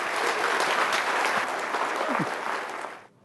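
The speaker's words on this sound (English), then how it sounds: "I'm always nervous when people clap before the talk" Sustained audience applause in a lecture hall at an astrophysics institute's public lecture, a dense, steady wash of clapping for about three seconds that fades out at the end, with no talking over it.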